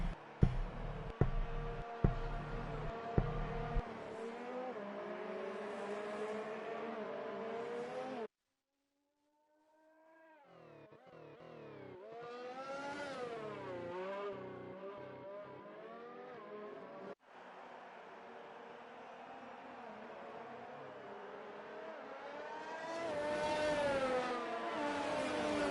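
Formula racing cars on the Bahrain Grand Prix circuit in a PS4 racing game rev and whine as they drive round to the start, engines rising and falling through gear changes, with a brief silent break partway through.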